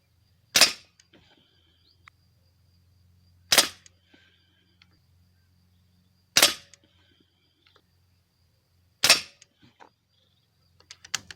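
An Artemis CP2 air pistol fires pellets at a 10 m target, four sharp isolated cracks spaced roughly three seconds apart, each loud and close with a quick decay, separated by near silence and a few small clicks.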